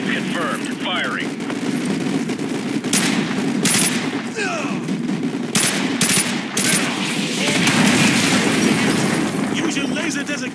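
Rapid bursts of gunfire and heavy explosions from an artillery fire mission in Call of Duty Modern Warfare 2 Remastered, dense and loud throughout, with game radio chatter between the blasts.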